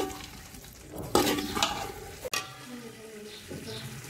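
Chopped dates, cashews, almonds and raisins roasting in ghee for egg halwa, with stirring scrapes and a soft sizzle, a louder stir burst midway and clinks of a spoon against the pan, close and steady.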